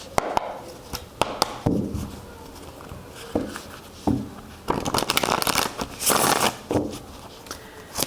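Tarot cards being shuffled and handled: irregular papery riffles, taps and slaps, close and fairly loud, with bursts of faster shuffling toward the end, no talking.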